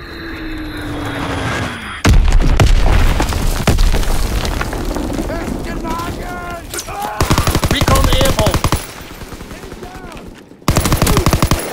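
A Fritz X glide bomb falls in Call of Duty WWII and detonates in a loud boom, with aircraft noise and bursts of machine-gun fire in a dense battle mix; a voice is briefly heard.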